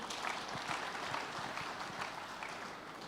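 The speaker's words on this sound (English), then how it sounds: "Please clap for him for that wonderful presentation." An audience at a 2024 NSE international conference technical session claps after a presentation, a dense, steady patter of many hands, fairly soft and distant, with no voices over it.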